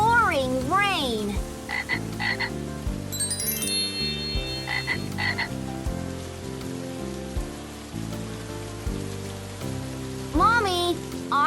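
Frogs croak in repeated bursts over steady pouring rain, set against continuous music, with no talk in between.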